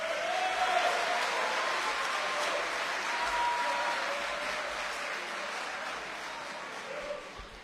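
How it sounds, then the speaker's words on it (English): Steady applause from a crowd at an awards celebration, a dense patter of clapping that holds for several seconds and slowly tapers, with faint voices underneath. "Can we give him a round of applause?"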